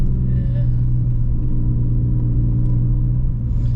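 VW Polo GTI with a 250 bhp engine cruising around town, giving a steady, loud low engine rumble throughout with a faint voice in the background.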